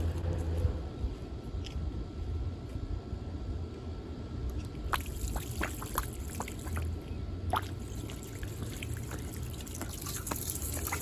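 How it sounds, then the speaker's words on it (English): Water sprayed onto an old Dietz Monarch railroad hot blast oil lantern being stripped with aircraft remover, heard as a soft steady hiss with scattered drips and crackly trickling, close and fairly quiet with no talk. "Spray a little water on it,"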